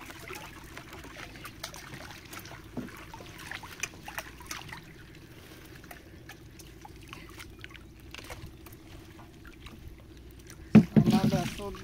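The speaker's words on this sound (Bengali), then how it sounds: "নৌকাটা একটু এদিকে ঠেলা দিয়ে" A wooden boat is pushed through water while village fishing, with soft lapping and trickling along the hull, ending in a brief louder splash and knock near the end. Voices talk now and then over the water.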